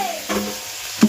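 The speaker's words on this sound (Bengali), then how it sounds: "পেঁয়াজ দিয়ে আমি দেখো পেঁয়াজটা ভেজে নিচ্ছি" Onions frying in oil give a soft sizzle with a couple of brief stirring scrapes, close and moderately quiet, with no talking.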